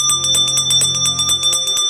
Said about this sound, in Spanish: La campanilla sonaba cada vez más.